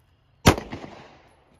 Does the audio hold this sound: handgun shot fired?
yes